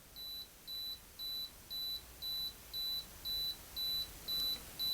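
A Canon AE-1 Program 35mm film camera's self-timer sounds a steady run of short, evenly spaced electronic beeps, about two per second, clear and close in a quiet room.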